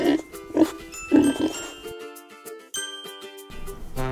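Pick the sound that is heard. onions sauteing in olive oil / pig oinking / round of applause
pig oinking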